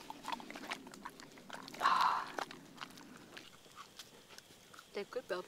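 Husky dogs crunching bell peppers at a campsite, with quiet wet chewing and bites in irregular bursts close by, plus a louder crunch partway through, while a person talks softly over it.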